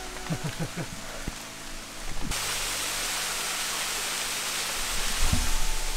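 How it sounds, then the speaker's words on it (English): Steady broadband rush of a waterfall on a rainy Hawaiian crater trail fills most of the clip, preceded by brief footsteps and rustling, with rain adding to the constant wash. "so we just got to our second waterfall here"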